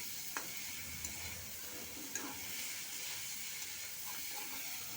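Drumsticks and potatoes sauté in a spice paste with a soft continuous sizzle, while occasional utensil scrapes and light clicks punctuate the stirring.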